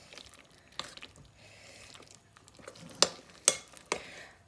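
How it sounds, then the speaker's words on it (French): Spoon stirring cherry cake batter in a bowl, soft wet squishing and scraping strokes at close range, with a few sharper clacks of the spoon against the bowl near the end, quiet overall. "à l'aide de la cuillère, on va pouvoir mélanger"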